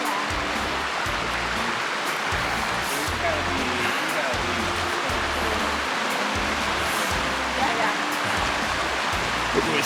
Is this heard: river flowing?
yes